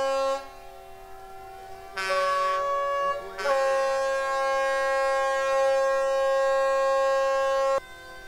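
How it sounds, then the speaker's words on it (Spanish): Ship horns in a port blare long and steadily during a religious procession honoring the Mare de Déu, with overlapping tones that shift pitch as extra horns join and then one cuts off near the end. "los barcos hicieron sonar incansablemente sus bocinas"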